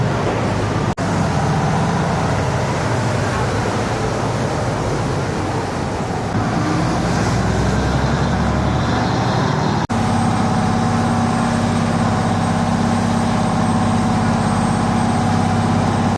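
A canal boat engine in Bangkok drones throughout with a constant low rumble and some watery wash, loud and continuous, with no speech.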